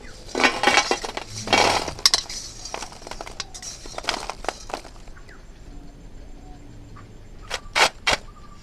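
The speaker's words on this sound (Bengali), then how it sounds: "তো চলো এবার সুটি ভাজাগুলোকে থালার মধ্যে ঢেলে নিই" Fried shuti snacks made from puffed rice tumble and clatter onto a plate in a few bright, close bursts of rattling clinks, followed by quieter handling and a couple of sharp taps near the end.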